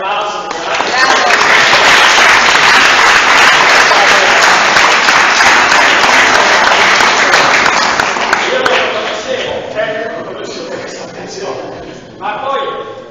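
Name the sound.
audience applause for Baratello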